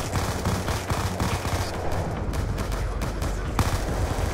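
MP5 submachine gun firing on rapid fire in the shooter game Call of Duty: Black Ops 2, a loud, fast stream of sharp shots with other gunfire and booms mixed in throughout.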